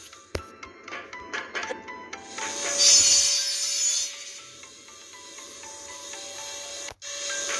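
A spinning saw trap cutting in the mobile platformer Toby: The Secret Mine, heard as a rising, whirring rasp that swells to a loud peak midway, then trails off into a steady ringing hum, with scattered clicks and taps early on.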